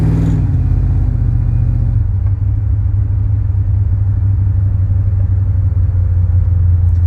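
A 1989 GMC Sierra C3500 single-cab dually pickup with a 502 V8 cruising at around 80 mph gives a loud, steady low engine drone and road rumble, continuous and close, after a brief higher whine at the start, with no talk.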